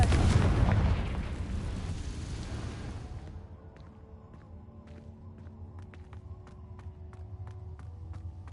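A Confringo fire spell blast in the Hogwarts Legacy video game, heard as a loud booming burst that rumbles for about three seconds and fades into quieter ambience with faint ticking sounds.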